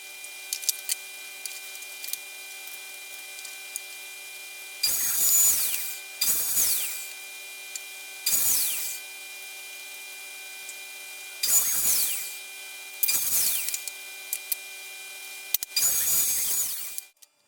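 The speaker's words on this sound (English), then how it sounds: "Here I begin by milling up some spruce panels." A woodworking machine mills spruce panels for a toolbox in several loud, close bursts of a few seconds each. Between passes a steady tonal machine hum continues.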